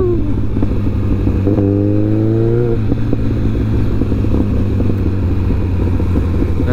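A Kawasaki ZX-14R motorcycle engine hums steadily while riding, a low continuous drone with a rising whine partway through and wind rush throughout, close and loud with no talking.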